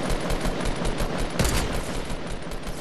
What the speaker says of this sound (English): I shot him with the bolt action.